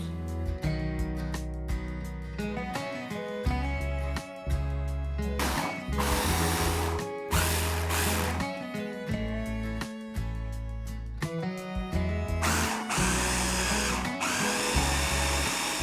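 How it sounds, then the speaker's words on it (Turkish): An electric chopper blends seedless watermelon pieces in loud, droning whirring bursts that start and stop repeatedly, with short pauses between pulses. "Evet çekirdeklerine ekladığımız karpuzlarımızı randamızın içine alıyoruz."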